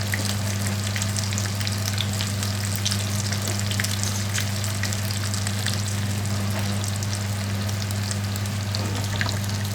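Cordon bleu frying in a pan, a dense, steady crackling sizzle with constant fine popping over a low continuous hum from the stove.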